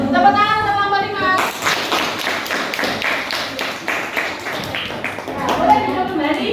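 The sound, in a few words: classroom applause for a student group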